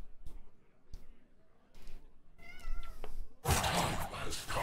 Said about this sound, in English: Why are you being a sad kitty?